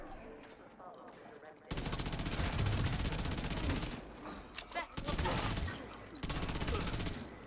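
Video game gunfire rattles in long sustained bursts of rapid shots, loud and close, broken by brief pauses, with faint voices underneath.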